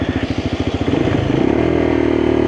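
A Lexmoto LXR motorcycle, 2024 new version, pulling up under a hard grab of the front brake, its engine note pulsing and then settling into a steady idle-like drone, close and fairly loud with no talk.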